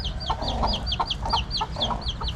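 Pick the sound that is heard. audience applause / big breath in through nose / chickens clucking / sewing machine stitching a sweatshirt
chickens clucking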